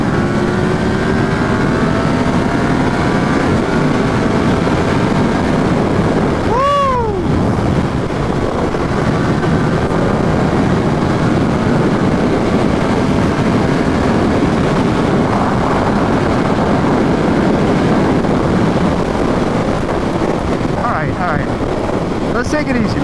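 A Yamaha FZ-10 motorcycle runs at high speed around 130, its engine drone and rising revs buried under loud, constant wind roar buffeting the microphone.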